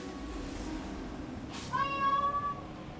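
A player character in the form of a cat gives a single clear meow in a video game, rising out of quiet background ambience about halfway through.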